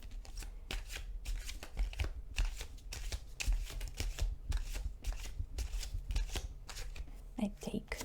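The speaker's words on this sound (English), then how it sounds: "let's take up on the tarot cards. We're gonna pick up 2 cards" Tarot cards are shuffled and handled up close in quick, repeated riffling bursts with a crisp papery texture, with a soft voice speaking quietly in the background.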